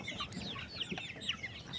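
Several farmyard chickens cluck and chirp in quick, overlapping bursts, fairly quiet against a steady outdoor background, with no talking.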